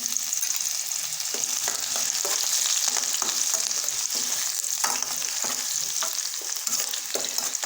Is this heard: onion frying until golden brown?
yes